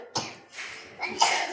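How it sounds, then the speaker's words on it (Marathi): A woman coughs in a few short, loud bursts close by, with a brief pause between the first cough and the later pair. "तिला बी लई खोकला झालाय"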